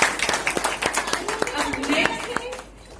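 An audience claps in sharp, scattered bursts at an award ceremony, the claps mixed with spoken voices before fading toward the end.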